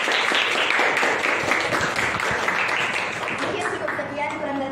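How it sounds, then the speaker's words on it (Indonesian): Clapping breaks out in a classroom gathering at UIN Sunan Ampel Surabaya, a brisk round of hands from a small group that gradually thins, with some talk mixed in. "Oke, kita berikan tepuk tangan dulu."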